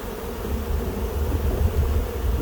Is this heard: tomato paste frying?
no